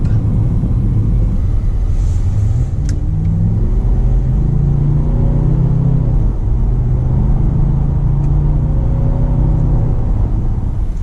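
Range Rover Sport HSE SD with a turbocharged 4.4-litre V8 diesel, a steady loud engine rumble with rising and shifting tones as the car accelerates, heard close and continuous with no talking.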